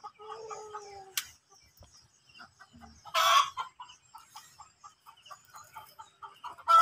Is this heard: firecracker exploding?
no